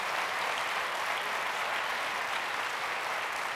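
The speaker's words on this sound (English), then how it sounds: "Let's give a round of applause, because I think they were extraordinary" A conference general session audience applauding, dense continuous clapping from many hands that stays steady and full throughout, with no voices over it.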